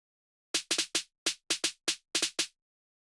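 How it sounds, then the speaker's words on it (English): A sparse drum pattern programmed in FL Studio with 30% swing plays alone: about ten crisp, short hits falling in a shuffled, uneven rhythm, clean and dry. "What this does is that it makes your drum pattern sound shuffly and it would sound like this."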